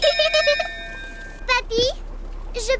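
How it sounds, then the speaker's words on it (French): A ship's bell on a boat in a Peppa Pig cartoon rings in a few quick, clear strokes with a lingering tone, followed by short bursts of children's cartoon voices. "Peppa, sonne la cloche."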